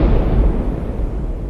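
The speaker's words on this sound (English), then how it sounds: "he is going to explode" A cartoon explosion sounds as a loud, deep booming rumble that fills the whole moment and stays heavy and sustained for over a second, with no voices over it.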